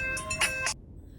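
A phone ringing indoors, a short electronic trill of a few quick pulses that cuts off abruptly, leaving near silence.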